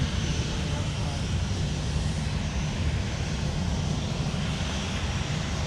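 A Sun Country airliner taxiing at Minneapolis–St. Paul airport gives a continuous, broad engine rumble, steady and fairly loud throughout with no breaks.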